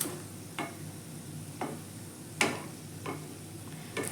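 Garlic cloves with their skins on fry in oil, giving a soft steady sizzle broken by a few sharp pops and ticks spaced around a second apart.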